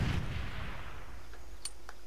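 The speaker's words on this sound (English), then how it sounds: "Grenade! Look out!" In Far Cry 3, a grenade goes off as a heavy, booming blast that hits at once and rolls into a rumbling tail, with a couple of faint sharp pops after it and no voices.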